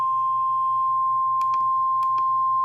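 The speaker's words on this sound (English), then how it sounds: "This is the National Weather Service weather radio warning alarm" A National Weather Service weather radio warning alarm sounds as a steady, loud single-pitched tone held throughout, with a few faint clicks or brief bursts of noise partway through.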